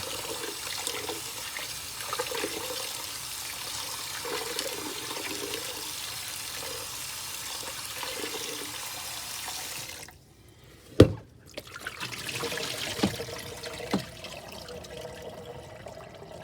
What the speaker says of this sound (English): you just push them around and rinse them off real good